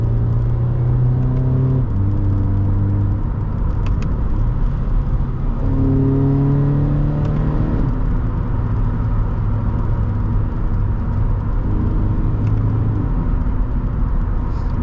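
A 2013 Subaru BRZ drives along a back road, its engine humming and rising in pitch through gear changes, with continuous tire and road rumble heard from inside the cabin.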